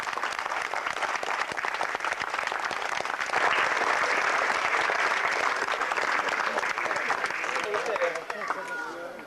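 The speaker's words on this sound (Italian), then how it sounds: "Un applauso," Sustained audience applause at a 1996 memorial football tournament for Angelo Filippone in Buccheri, Sicily, a dense steady clapping crowd that thins near the end.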